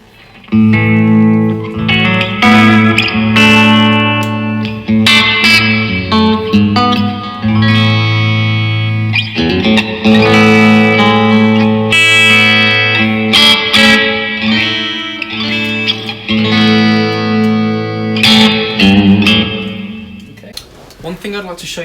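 Electric guitar through a Blackstar HT20 Mk2 valve amp with reverb turned all the way up, chords and notes washing together with long lingering tails, played continuously and loudly.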